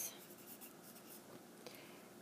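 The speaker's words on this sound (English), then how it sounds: "let me write it down" Pen or pencil writing a list by hand on paper, a soft continuous scratchy stroking that stays faint and close, with brief pauses between strokes and no talking.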